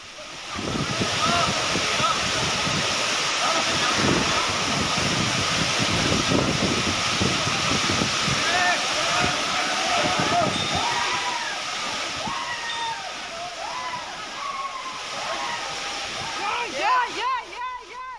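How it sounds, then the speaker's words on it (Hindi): Water pours down the mountainside as a waterfall along the Kedarnath route during heavy monsoon rain, making a loud, continuous rushing roar with splashing that lasts the whole stretch, and muffled voices mixed in. "इनमें पहाड़ों से गिर रहे पानी से वाटरफॉल सा बन गया है"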